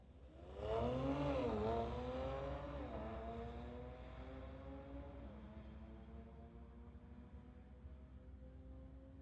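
A 2021 AMG car makes a solo drag strip run, launching with a loud roar and then climbing through a couple of upshifts as the engine recedes into a steadier drone.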